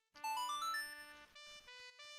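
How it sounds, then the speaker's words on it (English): A phone notification chime from a newly downloaded game plays as a short melodic ringtone-like jingle, then a second sustained tone, clear and fairly quiet. "my phone making notifications"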